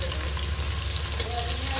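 Big onions fry in oil for a coconut milk biryani, producing a close, continuous crackling sizzle with a soft stirring rustle and no talk.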